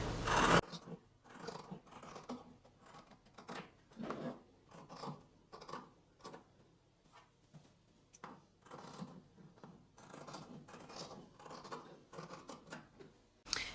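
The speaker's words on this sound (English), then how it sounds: "we're also gonna cut a bit of the seam allowance away again from the curve of the armhole here" Scissors snip through fabric seam allowance along the curve of a dress armhole, a series of close, quiet rhythmic cuts and rasps with short pauses between them, heard alone without talk.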